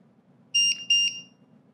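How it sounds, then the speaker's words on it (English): An Ultra E keypad lock on a door gives a few short, high electronic beeps as it enters reprogram mode, close and clear against a quiet background with a faint low hum. "You'll hear those 2 beeps, which let you know that you're ready to reprogram."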